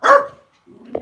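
A dog outdoors on a snowy hillside gives one loud, close bark, followed after a short pause by a fainter, rougher yelp or growl.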